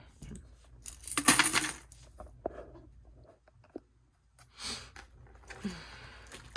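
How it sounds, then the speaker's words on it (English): A pile of coins dumped onto a table from a savings container, a loud bright jangling rush that spills and settles, followed by scattered clinks and smaller shuffles as the coins shift. "It was a lot of coins."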